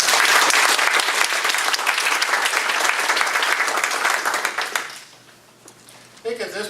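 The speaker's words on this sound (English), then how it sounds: "if we could give a round of applause to our panel for terrific answers." Loud, dense audience applause for a panel at a tech business forum, a steady wash of clapping for about five seconds that fades out, followed by a brief quiet stretch and a faint clap or voice at the very end.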